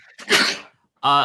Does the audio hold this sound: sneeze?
yes